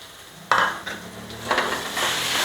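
Pieces of amla (Indian gooseberry) drop into a hot pan and burst into a loud, close sizzle, followed by a couple of stirring scrapes as the frying hiss continues, with no talking.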